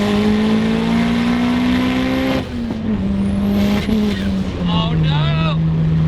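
A Hyundai Genesis Coupe 2.0T turbo engine revving hard at high RPM in third gear, a loud close droning pull that briefly dips, then climbs again, with some squealing chirps near the end and voices talking over it.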